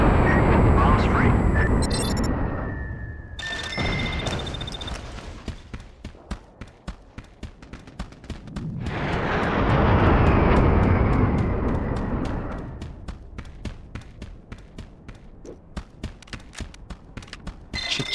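Air-strike bombs explode in the video game Mercenaries: Playground of Destruction, loud rolling booms that swell and fade in long waves, peppered with rapid sharp cracks and clicking debris sounds throughout.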